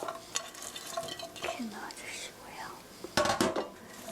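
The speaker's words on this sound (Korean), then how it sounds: "썰어놓은 어니언 양파 넣어주세요." Sliced onions dropped into a pan with grapeseed oil, giving soft rustling and light scraping against a steady hiss, with a louder clatter near the end; close and fairly quiet.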